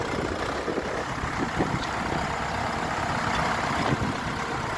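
A Xingtai XT 454 mini tractor with a 45-horsepower engine on large 28-inch wheels runs on a test drive, giving a steady, continuous engine drone heard up close without talk.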